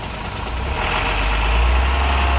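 Dump truck engine revving hard as it labours up a steep, extreme uphill grade, a loud, steady low roar that builds slightly in strength without a break.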